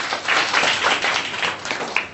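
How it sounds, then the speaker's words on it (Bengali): Schoolchildren in a fifth-grade classroom clap their hands in brief applause, a dense and fairly loud patter of many hands that fades near the end. "দুইজনের জন্য হাততালি দাও"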